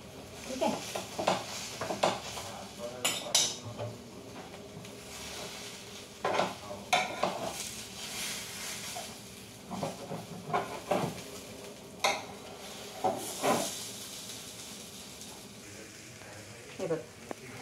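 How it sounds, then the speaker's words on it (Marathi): Pizza paratha halves roasting on a hot tawa over a gas flame, with scattered scraping and clinking of a utensil against the pan over a faint sizzle, in bursts across the clip; a voice talks intermittently. "त्याला छान शेकून घ्यायचं. मस्त कुरकुरीत होईपर्यंत असं उभं चारी बाजूने त्याला शेकलं"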